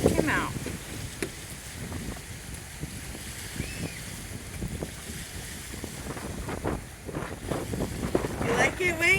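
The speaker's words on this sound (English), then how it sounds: "This wind is serious. You can probably hear a lot of it in the microphone" Strong wind buffets the microphone at a riverside park on the Indian River in Suntree, Florida, a steady low rumble with gusts swelling near the end; a voice speaks over it.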